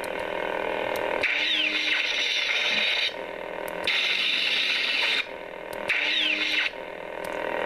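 Ultra Sabers Dominix V3 lightsaber replica sounding a lock-up effect: a loud, sustained crackling buzz over the hum that surges in bursts, with swooping flicker tones between them, heard alone with no talk.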